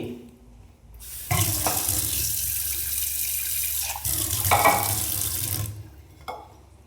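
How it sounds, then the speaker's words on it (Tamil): Water pours steadily into a pot for several seconds, pausing briefly midway, then tapers off to quiet. "ஊற்றியாச்சுங்களா தேவையான அளவு தண்ணி"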